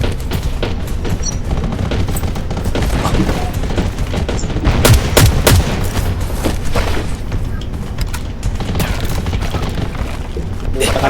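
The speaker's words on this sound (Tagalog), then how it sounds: "Magputok-putok mo kay Aro" Rapid bursts of gunfire in the game Undawn crackle continuously over dense background action, with a louder volley near the middle, while voices shout excitedly throughout.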